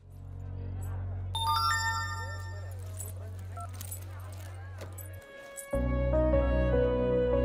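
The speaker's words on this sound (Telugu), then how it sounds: "వదినా ఫోన్ లిఫ్ట్ చేయట్లేదు." A phone rings on and on without being answered, a bright repeating ringtone pattern heard nearby over a low background hum.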